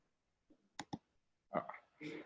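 Two quick mouse clicks land in close succession while setting up a Microsoft Office 365 backup schedule in KODO for Cloud software, and a person starts talking just after.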